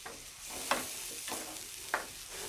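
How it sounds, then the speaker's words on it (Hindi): A spoon stirs tomatoes and green chillies frying in oil for restaurant-style matar paneer, giving a steady sizzle with a few soft scraping strokes against the pan, fairly quiet and with no voices. "तो इसी तरह इसको चलाते रहें थोड़ी देर के लिए जब तक ये मिक्स ना हो जाए।"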